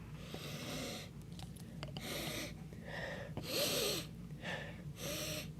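A series of loud, close sniffs and snorting inhales repeat in bursts, about five or six strong breaths in a row.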